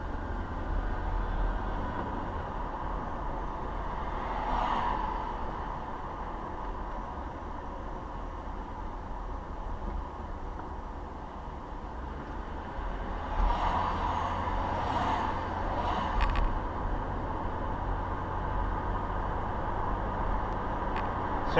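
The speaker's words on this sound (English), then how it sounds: "I'll give you an audio test of what the sound would be like when you have the windows open" Inside a car on the road with the driver's window fully open, a constant faint wind and tyre rush with a couple of louder gusts of passing traffic.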